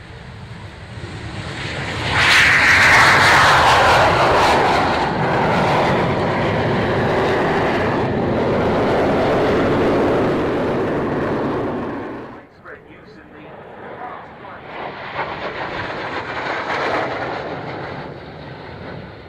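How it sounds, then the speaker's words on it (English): A Gloster Meteor T7 jet trainer begins its takeoff roll at an airshow, engine roar swelling loudly and holding steady before dropping away, then returning at a lower, more distant level. "Starting its takeoff run now, the Gloucester Meteor T7."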